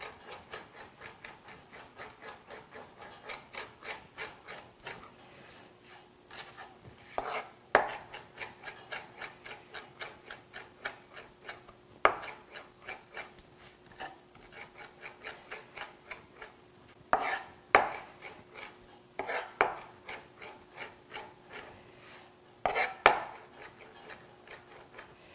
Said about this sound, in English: I'm gonna chop my herbs up really fine